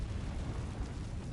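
A Confringo fire spell explodes in the Hogwarts Legacy video game, heard as a dense, rumbling blast with a sustained roar that fills the whole short moment at low volume.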